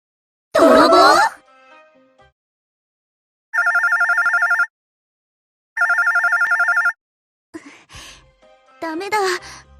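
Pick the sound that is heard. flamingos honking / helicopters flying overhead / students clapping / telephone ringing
telephone ringing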